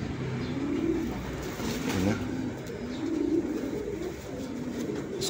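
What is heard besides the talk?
pigeon cooing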